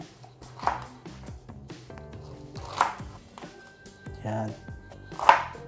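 A kitchen knife chops through a small head of cabbage while making a boiled pork and beef stew: a few sharp, separate cuts against a board, spaced out beneath steady nearby talking.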